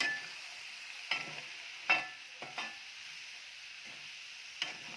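Prawns sautéing with salt in a pan, giving a continuous soft sizzle broken by a few sharp scrapes and stirs of the spoon, close and fairly quiet.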